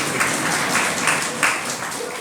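An audience at a Jain religious sermon breaks into applause, a steady patter of many hands clapping together at moderate loudness for the whole stretch.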